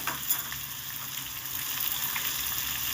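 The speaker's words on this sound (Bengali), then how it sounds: "আলুগুলোকে বেশ লাল লাল করে ভেজে নেব" Potatoes fry with a pinch of salt in a pan for a vegetarian spinach curry, giving a steady, close hiss of sizzling oil that runs the whole time without a break.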